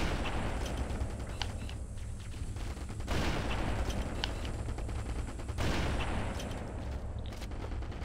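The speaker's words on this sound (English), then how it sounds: "I'm gonna shoot down some. Look at this bolt action sniper rifle." A bolt-action sniper rifle fires in the Halo CE Digsite demo mod. Heavy booming shots ring out over constant loud gunfire and battle noise, with two stronger blasts standing out a few seconds apart.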